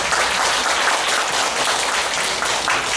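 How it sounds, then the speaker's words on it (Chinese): Sustained applause from an audience at a Taiwanese evening event, filling the full three seconds at an even, steady loudness with no talk over it. "所以我们现在也先热烈掌声"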